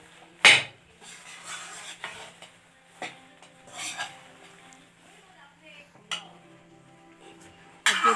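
A spoon scrapes and stirs a roasted flour mixture in a hot kadhai, giving soft intermittent rasps and a few sharper metallic clinks, with a voice speaking quietly underneath.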